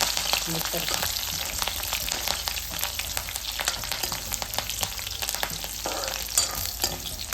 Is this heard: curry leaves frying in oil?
yes